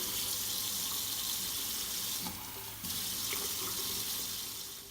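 Tap water runs steadily into a measuring cup for homemade lemonade concentrate, a continuous hissing splash that briefly shifts in tone as the cup fills, with no talking.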